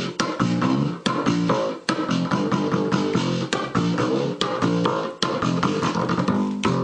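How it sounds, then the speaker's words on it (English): A homemade bass built from a round balloon and a skinny twisting balloon thumps out a rhythmic, buzzy riff in repeated phrases, close and fairly loud. "It's made out of this round balloon and one of the skinny balloons that you use for twisting animals."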